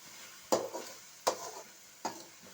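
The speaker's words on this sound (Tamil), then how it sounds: "வெங்காயமும் தக்காளியும் எண்ணெயில்." Onions and tomatoes with turmeric frying in oil, stirred three times with a spoon against the pan: sharp scraping strokes over a steady soft sizzle, no talking.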